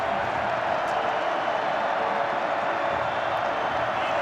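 A football stadium crowd roaring at the BYU season opener against Southern Illinois: a dense, steady wash of cheering and applause that holds loud and unbroken throughout, with no clear voice standing out.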